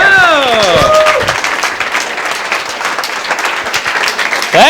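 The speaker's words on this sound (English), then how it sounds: "Please, a nice round of applause for Mr." Loud studio audience applause for comedian Jim Carey on a 1986 talk show, a dense sustained wash of clapping with some voice at the start, continuing steadily throughout.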